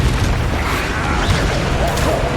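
A Confringo spell explosion in Hogwarts Legacy bursts as a dense, loud, sustained roar of fiery rumble and crackle filling the whole moment, with a voice barely present beneath it.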